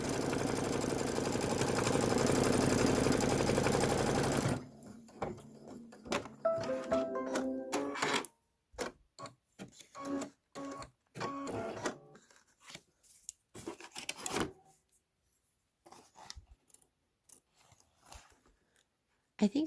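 An embroidery machine stitching a tack-down line gives a loud steady mechanical whir, then breaks into irregular clicks and short bursts of stitching with pauses between them.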